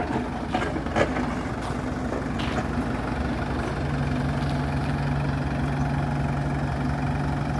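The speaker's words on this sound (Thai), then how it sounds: "คลิปนี้พามารับชมรถไถขึ้นเทเลอร์หางสั้นนะฮะ" A Kubota M108 tractor's diesel engine idles and rumbles nearby, with a low constant drone and a few faint clanks over the top.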